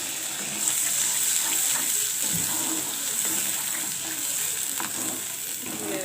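Water poured into a pan of cooking jujube (kul) pickle, a continuous bubbling hiss and sizzle with faint stirring scrapes and a few soft knocks.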